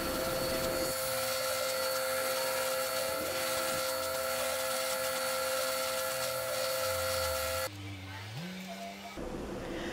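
Small purpleheart wood pieces for an intarsia panda's eyes are shaped and sanded with a power tool, giving a loud, steady whining drone throughout that drops in pitch and shifts near the end.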